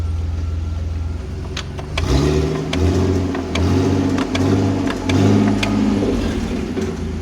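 A BMW 330ci six-cylinder engine in a manual drift car project revs repeatedly on the throttle, loud and close, settling into a steady idle between several rising and falling bursts.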